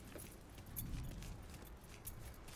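Keys jangle and clink as they are picked up in the Mafia 3 video game, a short metallic rattle over a low, steady background hum.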